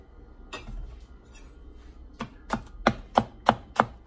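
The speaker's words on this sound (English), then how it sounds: "I'm gonna finish cutting up these onions" Knife strokes cutting onions into julienne strips on a board, a few scattered cuts and then a steady run of sharp, evenly spaced chops growing louder and close by.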